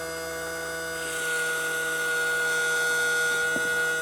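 A CleaveTech slot car tire trimmer with a Hudy fitting runs with a steady mechanical whine and hum, the pitch rising slightly partway through as a knife presses down and trims the tire, followed by a small click near the end.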